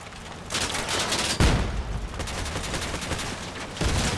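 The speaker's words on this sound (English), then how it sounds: "Just gonna fire my trombone on that dude." A trombone weapon in a video game fires as a loud, continuous crackling barrage of gunfire-like bursts, with a heavier blast early on and another surge near the end.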